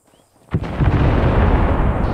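Explosive charge detonating in the military video game ARMA 3, a quiet moment broken by one sudden loud blast that rolls into a long, deep rumbling boom.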